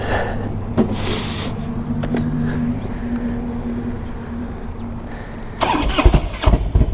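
A 2001 Harley-Davidson Electra Glide Ultra Classic motorcycle with fuel injection, heard as a low engine hum that ends in a loud rough burst of cranking and firing near the close, no talking.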